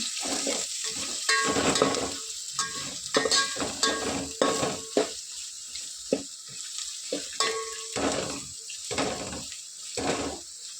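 Coriander and mint frying in a pot for chicken bagara rice, an uneven sizzle with bursts of stirring and spattering separated by quieter gaps, close by with no talking.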